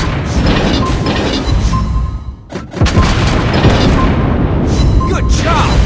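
Torpedo hits in the World of Warships naval game land as deep booming blasts, one big impact and several rumbling explosions amid continuous battle noise and game voice cues.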